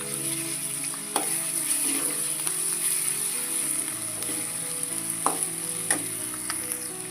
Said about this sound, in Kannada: ಈಗ ಕೆಂಪಗಾಗುವಂಗೆ ಸ್ವಲ್ಪ ಕೈ ಆಡಿಸ್ಕೊಂತ ಇರೋಣ